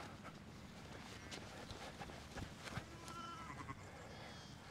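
Ewes and lambs bleating at lambing time, several overlapping calls close by over a steady outdoor background with some shuffling movement.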